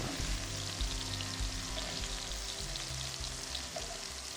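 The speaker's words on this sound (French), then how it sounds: "on dépose à présent notre ail, nos oignons, nos poivrons et on fait revenir avec un petit peu d'huile du poulet" Garlic, onions and peppers sautéing in a little oil in the same pot used for browning chicken, a steady dense sizzle running throughout with low rumbling beneath and no talk.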